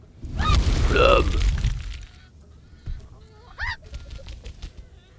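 Honking, squawking chicken calls from the game Le Donjon de Naheulbeuk, loud at first and then quieter, with someone talking.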